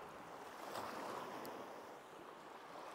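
Sea swells washing against the shore at a fishing spot, a steady soft rush of surf mixed with wind buffeting the microphone, with no voices.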